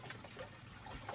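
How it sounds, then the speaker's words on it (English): Water splashing and trickling over freshly caught crawfish to rinse them, a brief, soft liquid patter close by. "Throw a little water on top of them."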